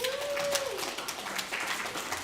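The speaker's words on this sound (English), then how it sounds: "Give Daniel a round of applause." An audience at a vacation Bible school gathering gives a short burst of applause, a dense wash of clapping with a brief whistle near the start.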